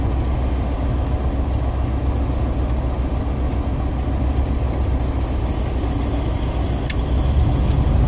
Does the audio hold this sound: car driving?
yes